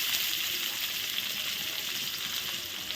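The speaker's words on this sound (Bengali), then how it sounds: "একই তেলে এখন দিয়ে দিচ্ছি এই যে পেঁয়াজ" Onions sizzling in hot oil, added to the same oil just used for frying potatoes for a meat dish, give a steady, dense crackling hiss that runs evenly throughout with no voices.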